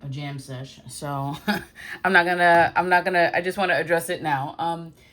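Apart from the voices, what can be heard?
No everyday noise stands out behind the speech.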